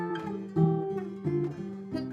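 Acoustic guitar playing a song part, a short fingerpicked phrase of plucked notes and a small fill, close and clear, heard alone.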